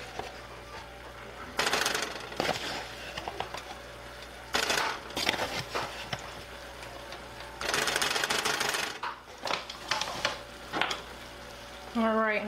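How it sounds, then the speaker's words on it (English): Chicken gnocchi soup whisked in a pot, rapid scraping and rattling strokes in several bursts separated by short pauses, close and fairly loud. "at this stage we're going to whisk this because you don't want it to get too clumpy."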